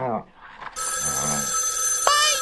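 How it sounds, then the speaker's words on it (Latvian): A telephone bell rings with a bright, high metallic trill that starts suddenly and carries on steadily to the end, with voices heard just before it begins. "Es zinu, kas tas ir. Tas ir telefons."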